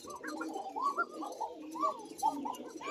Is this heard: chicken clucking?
no